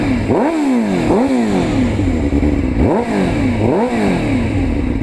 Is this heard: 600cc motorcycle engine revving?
yes